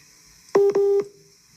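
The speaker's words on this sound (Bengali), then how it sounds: "আবার ফোনে কল আসছে, ওইটা কাটলে আবার ক্লিয়ার হয়ে যাবে।" Incoming phone call tones cut into a virtual speech broadcast: a short burst of two or three loud, steady electronic beeps. The first two come close together and the last trails off longer, with no talk alongside.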